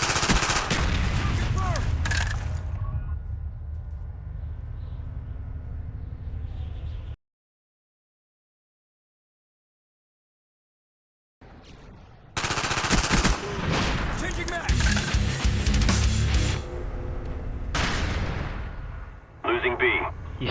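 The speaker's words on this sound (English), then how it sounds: "You soon start to run out of ammo very fast in any SMG though, as they have such a high rate of fire" Submachine guns in Call of Duty Black Ops fire in rapid, loud bursts, broken by a few seconds of complete silence midway before the gunfire resumes, with a voice talking over parts of it.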